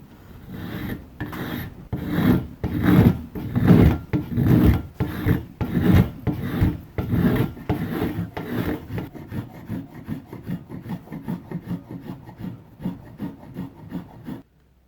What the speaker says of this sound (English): work on this, which I'll do with the spoke shave because it's faster than the sander